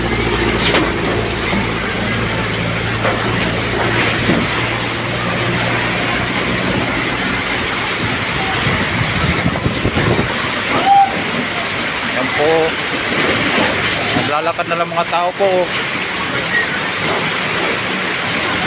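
Heavy rain pours outside a shop, a dense, steady roar of drops on surfaces with passing traffic noise, while someone talks over it at intervals.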